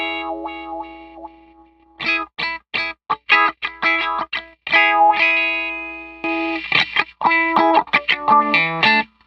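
Electric guitar played through a wah pedal in a distortion and effects pedal chain, with bursts of sharply sweeping, vocal-like notes and chords that start and stop in quick phrases, loud and close with no voices.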